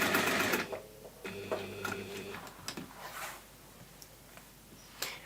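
A sewing machine topstitches a clutch bag, a quick rattling run of stitches at the start, then shorter bursts and pauses with soft fabric handling; a voice talks quietly underneath.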